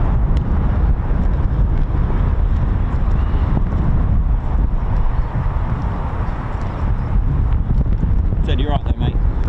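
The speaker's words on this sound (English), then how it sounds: "It's absolutely windy." Strong wind roars steadily across the microphone at RAF Waddington airfield during the Cobra Warrior air exercise. The buffeting, low rumble persists throughout, and a brief voice breaks in near the end.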